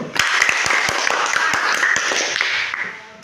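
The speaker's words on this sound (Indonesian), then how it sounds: "Oke, tepuk tangan untuk kelompok 1." A group of classmates claps for the first discussion group after its presentation in a classroom, a dense burst of many hands lasting the whole stretch, close and loud with no talk.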